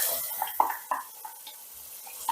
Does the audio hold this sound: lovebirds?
no